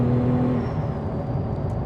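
A 2017 Holden VF SV6 supercharged engine pulls hard under acceleration, a loud, steady interior drone with a faint rising supercharger whine across the brief moment.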